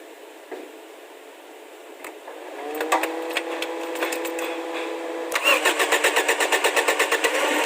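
A Toyota Corolla engine cranks and catches after a few seconds, then settles into a steady idle with a fast, rhythmic ticking clatter, heard close with no talking.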